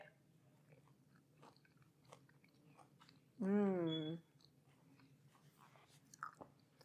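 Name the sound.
biting and chewing a Santorini tomato fritter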